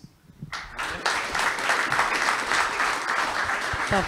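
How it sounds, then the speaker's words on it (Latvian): Audience applause at an energy-efficient building award ceremony in Latvia, a dense sustained clapping that swells quickly and carries on steadily, close and loud. "Lūdzu, vēl aplausus"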